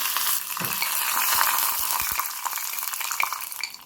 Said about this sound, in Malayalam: 1 ടേബിൾ സ്പൂൺ നെയ്യ് ഇട്ടിട്ട് 1 ടീസ്പൂൺ കടുകും 1 വറ്റൽമുളകും കൂടി ഇട്ട് കൊടുക്കും.